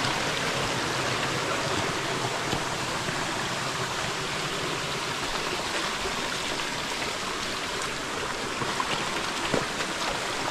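Water pouring down Sayahan Waterfalls in Ormoc City, a steady, loud, unbroken rush that fills the whole clip with no voices.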